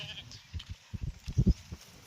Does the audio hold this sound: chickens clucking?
no